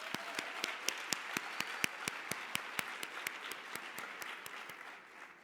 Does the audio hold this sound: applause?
yes